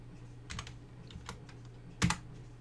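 Scattered keystrokes on a computer keyboard in a quiet room, faint and irregular, ending with a sharper, louder press of the enter key.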